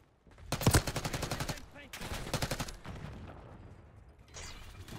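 Rapid automatic gunfire in the Black Ops 6 video game, two sustained bursts of evenly spaced shots with a short pause between, loud and close, followed by a quieter stretch and a fainter later shot.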